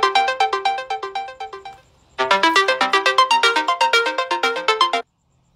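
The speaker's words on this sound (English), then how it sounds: "The phone call coming in." Phone ringtone of an incoming call, a repeating electronic melody of short tonal bursts that plays for about two seconds, pauses briefly, then resumes for three more seconds, loud and clear with no talking over it.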